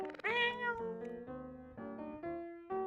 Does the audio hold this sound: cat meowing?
yes